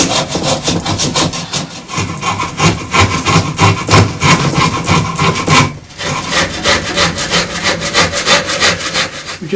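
A straight Surform rasp shapes yew and ash Windsor chair parts in loud, rhythmic rasping strokes, close by and continuous, with a brief pause partway through before the scraping resumes.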